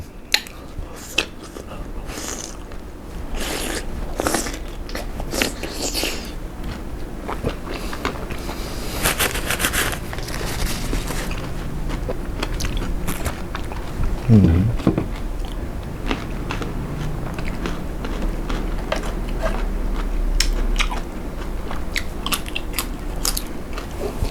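Large Surat Thani oysters being eaten up close, with wet slurping, squishing bites and chewing scattered irregularly through a steady background, no talking.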